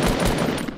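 Burst of gunfire in the Fortnite battle royale, a dense, loud run of shots packed into under a second with no talk over it.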